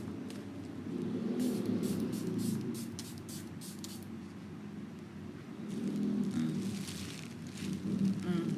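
A handheld skincare spray bottle being shaken and then sprayed several times, giving repeated short hissing bursts in close succession, with someone talking quietly underneath.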